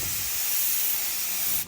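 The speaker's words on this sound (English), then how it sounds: "We're going to spray it. First coat is going to be mist on only" A 3M primer gun with a 1.8 tip lays a mist coat on a Ford F-150 rear bumper, a steady, close, loud hiss of spray that runs unbroken and cuts off at the end.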